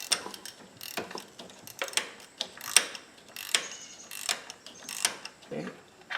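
Wrench ratcheting on a spark plug of a fifth-generation Subaru Outback, a series of sharp metallic clicks and short ratchet bursts in an irregular rhythm, close and fairly quiet.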